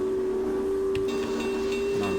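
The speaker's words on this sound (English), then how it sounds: "sound the whistle" A sustained steam whistle of a Union Pacific Big Boy locomotive in Train Simulator 2019 blows in a steady tone, with faint mechanical clanks and hiss beneath it.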